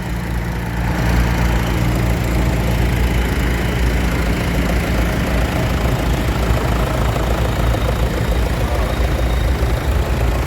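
Classic tractors such as David Brown, Zetor, Case, Ford, John Deere and JCB models at the Hope Show run together, a loud, steady low engine rumble with idling throb, continuous throughout and with no talking.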